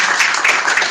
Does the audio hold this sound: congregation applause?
yes